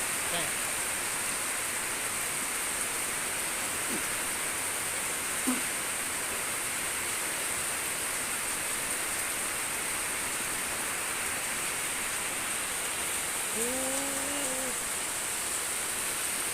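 Steady rain pours down in a constant hiss, with a brief voice-like sound rising near the end.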